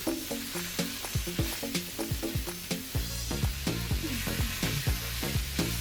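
Potatoes tossed and warming through in a pan for a vegan Hong Kong-style dish, giving a steady close sizzle with repeated soft scraping and tossing clatter.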